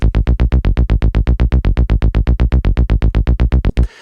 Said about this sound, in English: It's just a simple bass patch called Creamy Coffee